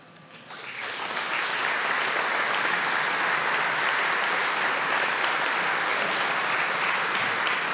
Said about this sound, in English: we can give you and your lovely wife, Lisa, a round of applause and a proper thank you for your contribution.